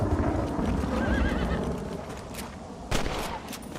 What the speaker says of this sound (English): Having 4 horses. 3 horses. 3 horses of the apocalypse.